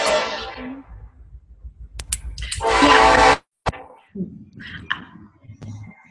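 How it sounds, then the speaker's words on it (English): A passing train rumbles in the background of a conference call, with a loud horn blast and clattering wagons that cut off abruptly, followed by faint scattered noises. "Who has the train in the background?"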